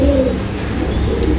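Pigeons coo softly in a domestic loft, a breeding pair of Oman teddy pigeons for sale, with low steady cooing and a light airy background hiss throughout.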